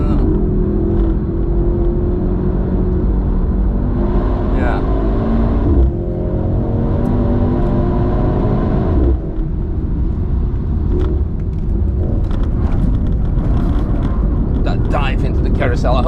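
A Mercedes C63 AMG runs hard on the Nürburgring, its engine a loud, continuous rumble heard from inside the cabin, with rising and falling pitch as it accelerates and shifts, and occasional faint clicks on top.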